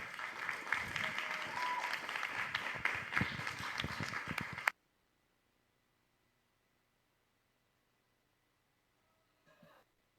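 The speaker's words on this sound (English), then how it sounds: "So let's give a big, big round of applause for Miss Tanvi Patel." Audience applause at a middle school talent show, a dense burst of clapping and cheering for about five seconds that cuts off abruptly into near silence, with a faint brief sound near the end.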